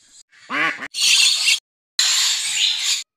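Birds calling at a resort for bird lovers: several short, loud, harsh quacking and squealing calls, with a brief cry followed by two sustained bursts separated by a silent gap.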